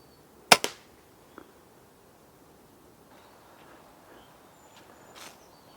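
A single sharp rifle crack rings out at a heat pack target, seen through a PARD SA19 thermal imaging riflescope, followed by a short echo, a faint later tick and quiet outdoor background.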